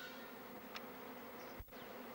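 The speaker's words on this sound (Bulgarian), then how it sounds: "Цялата градина е осеяна с пчели." Bees buzzing steadily among garden flowers, a close, faint drone with a brief louder pass as one insect flies near the microphone.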